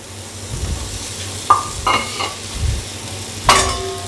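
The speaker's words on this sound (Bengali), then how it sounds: "এর মধ্যে এবার দিয়ে দেবো ভেজে রাখা চিংড়ি মাছগুলো" Fried prawns are stirred into a taro curry in a pan, giving a few scraping, clattering stirs with a soft sizzle beneath, close and moderately loud, with no talking.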